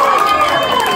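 A comedy show crowd at a graduation event cheers and yells in one loud, dense burst of mixed voices.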